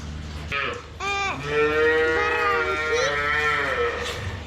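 A cow on a Polish village farm lets out a long, loud, drawn-out moo close by, sustained for several seconds, with a short grunt just before it.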